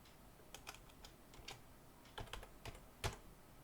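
Quiet bursts of clicking keystrokes on a computer keyboard as a command is typed, irregular taps spaced over a few seconds with no talking.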